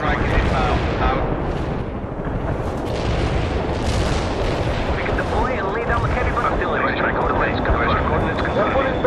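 In World in Conflict, a heavy artillery barrage keeps up a continuous thunder of blasts, with aircraft noise and frequent speech over the roar.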